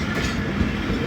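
Thal Express locomotive notching up at Attock City Junction, a dense, steady rail rumble with heavy low-end throb that holds loud and even throughout, with no voices.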